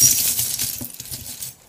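Small metal charms tossed onto a surface for a card reading, a quick cluster of light clinks and rattles settling within about a second and a half, close and fairly loud.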